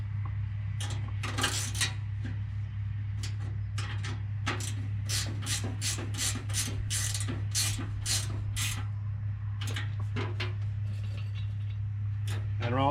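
A wrench works on the pick-up head of a BB940 baler, giving a series of metallic ratcheting clicks and clanks in irregular bursts over a steady low machine hum nearby.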